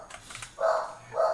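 A dog barks twice, one loud bark followed by a second after a short pause, both fairly close, with faint background noise before the first bark.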